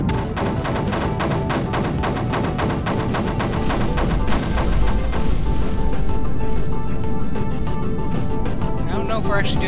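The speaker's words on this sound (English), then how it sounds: "So let's target it and open fire." Spaceship weapons in Kinetic Void fire in a rapid, rhythmic barrage of sharp, loud bursts that repeat steadily and grow denser and heavier toward the end, with no talk over them.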